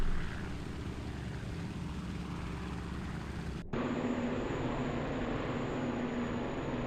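Propeller aircraft engines drone steadily in a World War II combat flight simulator game alongside B-17 bombers, a continuous low hum that shifts abruptly in tone partway through, with no voices.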